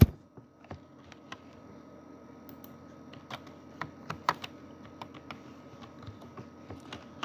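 Typing on a computer keyboard, a steady run of light, irregular key clicks over a faint background hum, close and clear with no talking.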